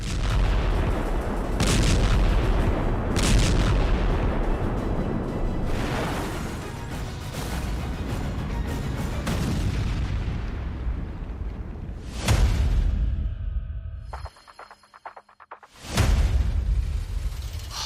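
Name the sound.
explosion from Israeli air strike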